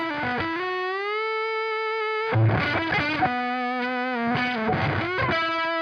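Distorted electric guitar riff, a sustained bent note held then choppy chugging bursts, with effects coloring and hum-like noise between phrases, loud and upfront without speech.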